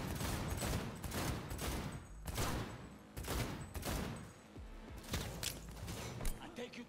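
Pistol and shotgun fire in the futuristic shooter Cyberpunk 2077, a rapid series of sharp, loud shots in uneven bursts throughout, with voices talking over the firefight.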